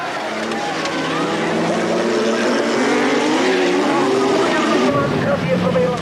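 Rallycross cars at the 1986 European championship race past, their engines roaring in a loud, continuous, rising and falling drone. A commentator talks over the noise the whole time.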